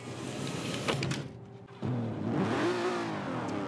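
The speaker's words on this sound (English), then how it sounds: "We can turn the car on." An Aston Martin DB5 engine starts in the Forza Horizon 4 racing game: a brief mechanical whir, a short pause, then the engine catching with a low rumble that rises into a steady, moderately quiet idle.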